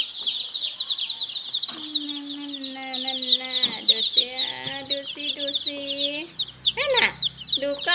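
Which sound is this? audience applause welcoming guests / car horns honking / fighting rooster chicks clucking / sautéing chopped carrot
fighting rooster chicks clucking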